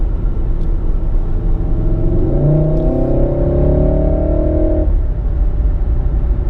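A car accelerating during a driving lesson, a close engine rumble whose revving pitch climbs over a couple of seconds, holds, then drops away as power eases, with no talking.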